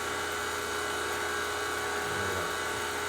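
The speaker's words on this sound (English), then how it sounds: "So now I'm about to open up the 12 CFM vacuum pump and let's see what happens." A 12 CFM vacuum pump hooked to an HVAC system's low-side service valve runs steadily with a constant high, buzzing motor whine, loud and close, with a slight shift in tone near the end.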